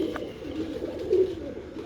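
A prized golden racing pigeon in a loft coos in soft, low, rolling murmurs that rise and fall, with one fuller swell partway through, steady and fairly close with no talk.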